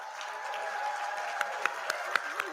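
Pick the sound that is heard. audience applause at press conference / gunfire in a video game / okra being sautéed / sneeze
audience applause at press conference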